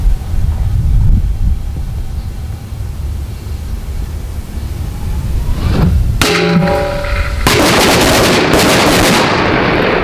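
A single sharp, loud blast from a Piromax C4 mini firecracker breaks a low rumbling background, followed by a burst of crackling debris and lingering noise.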